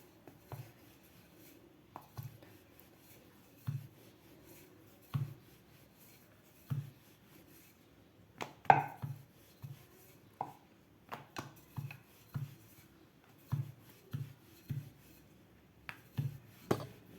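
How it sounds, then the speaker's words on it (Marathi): Sweet jaggery-coconut puri dough is rolled out with a rolling pin, giving soft, regular thumps and light rubbing roughly once a second, close and fairly quiet, with no talking. "तर आता याची पुरी लाटून घेऊया आपण"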